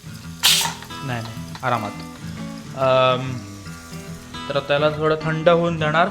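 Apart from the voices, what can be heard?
pressure cooker hissing after cooking black chickpeas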